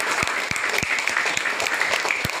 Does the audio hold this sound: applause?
yes